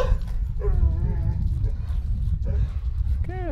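Several dogs, small ones among them, give short barks and high whining yelps near an aggressive Saluki during an outdoor training session; a person talks over the noise throughout.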